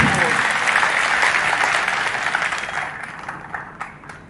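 A crowd at an election campaign rally breaks into loud, sustained applause that gradually thins and fades, with a voice heard over the clapping.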